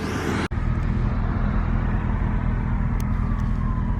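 A BMW E34 540i V8 engine idles after a motor mount repair, a steady low rumble with even harmonics held at a constant level throughout, briefly cut by a short dropout near the start, with no talk.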